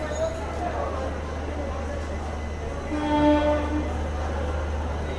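A special superfast express train runs from Charlapalli toward Tirupati, its steady low rumble continuous throughout, with a horn-like tonal blast rising around the middle over a murmur of passenger chatter.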